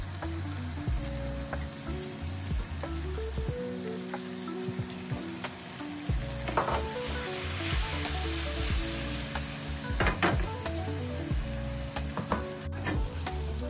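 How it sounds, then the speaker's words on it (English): Onions sizzle steadily in butter in a frying pan for a chicken burger, with a few louder crackling bursts and scraping stirs rising over the continuous hiss; no one speaks. "Now it's time to do the onions. Some little butter."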